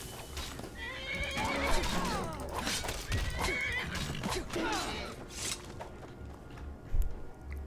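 A horse neighs with a long, wavering whinny in Skyrim, mixed with hoof clopping and shuffling, fairly close and prominent.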